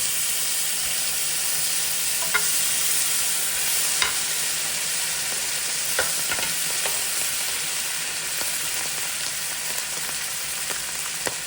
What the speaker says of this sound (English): Let's go ahead and drop in our butter